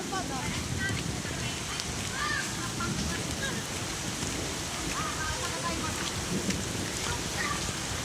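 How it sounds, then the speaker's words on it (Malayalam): Heavy rain with hail and thunder in Thrissur, Kerala, a dense steady roar of rain drumming on surfaces with faint pattering hits, close and continuous. "ജില്ലയിലെ വിവിധ സ്ഥലങ്ങളിൽ ആലിപ്പഴവും പെയ്തിറങ്ങി."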